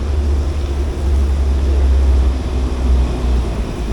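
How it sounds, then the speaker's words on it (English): A heavy tractor trailer passes on a road overhead, heard from below as a continuous deep engine rumble that stays loud and steady, with broadband road noise layered on top and no voices. "that's a tractor trailer"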